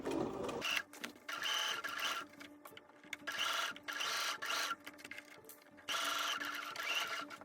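A sewing machine stitches down the placket edge of a dress in bursts of rapid mechanical whirring, stopping and starting several times with short quiet pauses between runs, close and clear with no talking.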